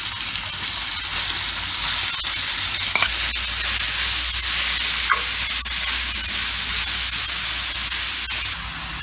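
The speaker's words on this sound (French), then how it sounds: "Ensuite, on ajoute nos carottes déjà râpées." Grated carrots frying in olive oil over low heat, a steady soft sizzle and crackle lasting the whole stretch with no talking.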